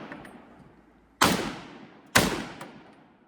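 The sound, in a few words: BAR rifle fired from the shoulder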